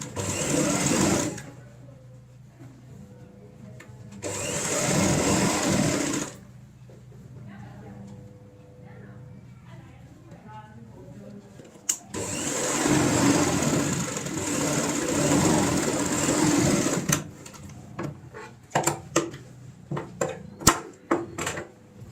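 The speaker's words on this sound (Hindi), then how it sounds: "इस तरीके से यहाँ पे भी सिलाई लगाएंगे जिप ज्वाइंट वाली सिलाई के ऊपर" An electric sewing machine stitches over the zip joint seam of a tote bag, running in loud close bursts with a long continuous run midway and short stop-start bursts at the end, while a person talks in the quieter gaps.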